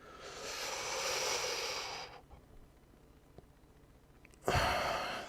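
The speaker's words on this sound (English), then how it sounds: "Breathing in deeply." A slow, deep breath during a yoga session, a long airy inhale that fades into quiet, followed after a pause by the start of a strong exhale, close to the microphone.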